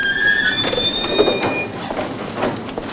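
A Paris RER train at Gare de Lyon station rumbles steadily with clattering wheels and thin high squeals from the rails, loud and close throughout.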